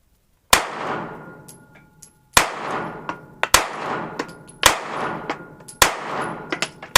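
Smith and Wesson M&P Shield 9mm pistol fired at a target, about six sharp, loud shots spaced roughly a second apart, each with a ringing tail and faint metallic pings between them.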